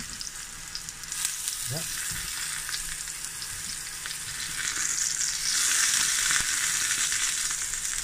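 Boletus mushrooms fry in a pan with a continuous close sizzle that swells louder after they are flipped, with small scrapes of a fork and one brief spoken word.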